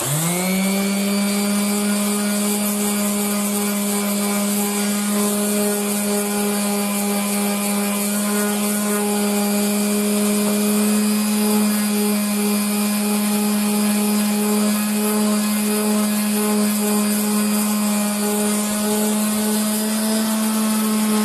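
A loud, steady electric sander drones on wood with a constant whine throughout, unbroken and close, running continuously.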